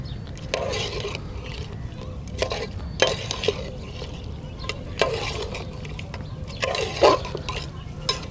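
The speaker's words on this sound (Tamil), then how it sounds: "இப்போ நம்ம மொத்தமாக பெரட்டுவோம்." A spatula scrapes and stirs a large batch of pepper chicken masala gravy in a pan, soft scraping strokes and light clinks over a low steady sizzle, fairly close.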